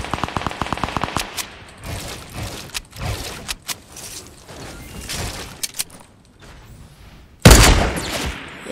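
Sniper fire rings out in a video game: a quick rattling burst at the start, then scattered separate shots, and one loud, sharp blast near the end, with no talking.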